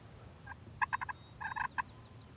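A wild turkey gobbles at a distance outdoors during a hunt, a quick rattling burst of repeated notes followed by a second gobble, with no talking over it.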